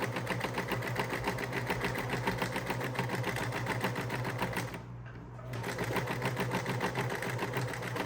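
A sewing machine stitches fabric for an island top in a fast, steady mechanical whir with even rapid needle pulses, pausing briefly midway before running on again, close and alone.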